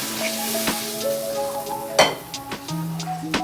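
Chicken masala is stirred in a sizzling pan, giving a soft hiss beneath clinks and scrapes of a metal spoon against the cookware. One sharper knock stands out midway, and no one speaks.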